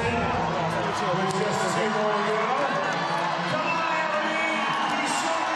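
Crowd noise at the Rogue Invitational fitness competition as an athlete finishes an event, continuous cheering and whooping from the stands beneath a commentator talking loudly over it.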